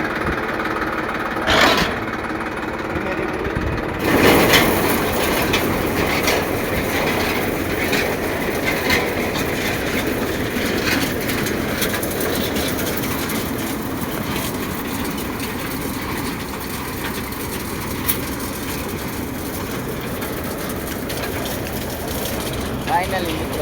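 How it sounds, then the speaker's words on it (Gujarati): A tractor engine runs steadily for chickpea harvesting on a Gujarati village farm, a continuous rumbling drone with mechanical rattle, while people talk over it throughout. "હવે આપણે ટ્રેક્ટર લગાડવાનું શરૂ કરી દીધું છે."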